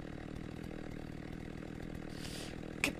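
Chainsaw in a Minecraft maniac horror game, a steady buzzing motor drone held at an even level throughout, with a brief sharp click near the end.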